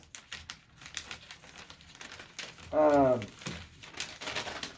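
Metal scissors slide into a crinkly sterilization peel pouch, giving close, soft crinkling and rustling with a brief louder crackle burst midway, while a person talks quietly in between.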